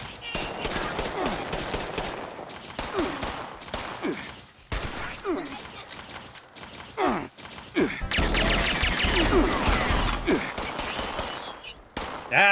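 Rapid bursts of gunfire crackle in the Fallout 76 video game, loud, repeated shots in clusters with brief gaps, and a player's voice occasionally over the action.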